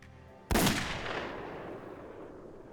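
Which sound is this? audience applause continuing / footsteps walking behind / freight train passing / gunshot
gunshot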